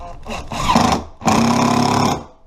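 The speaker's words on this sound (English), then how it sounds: "So the shims are just going to go on each side. Just going to screw it in." A power drill drives screws through wooden shims under a kitchen range hood cabinet, two close whirring bursts with a pause between.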